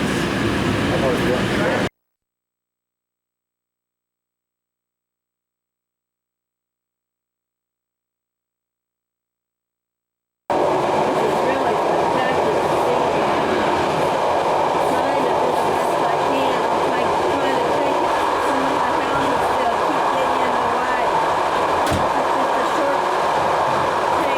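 A train in Sweden or Norway rumbling along the rails with a steady roar and faint rhythmic clatter; the sound cuts out completely for several seconds before resuming.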